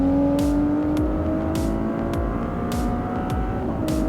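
An 830-horsepower Ferrari 296 GTB accelerates hard on a race track, its engine a loud, continuous droning roar that climbs in pitch, heard from inside the car, with sharp ticks recurring at regular intervals and no talk.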